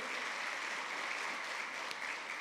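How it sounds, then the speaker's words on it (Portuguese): A church congregation claps during an evening sermon on anointing and healing, an even, continuous hiss of many hands heard faint and distant with no clear individual claps. "Você pode aplaudir Jesus por isso?"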